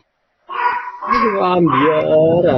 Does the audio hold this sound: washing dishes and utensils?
no